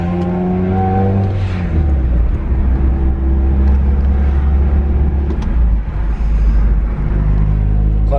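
A Nissan Silvia with a newly installed clutch is test driven, its engine loud and close as it revs up and drops through gear changes, with no talk over it.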